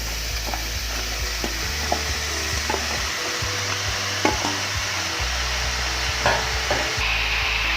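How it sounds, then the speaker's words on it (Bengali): Chopped bottle gourd cooking in a kadai, giving a steady close sizzle with scraping stirs over a constant low hum, without voices. "প্রথমে আমি একটা কড়াইতে ছোট ছোট কেটে রাখা লাউ"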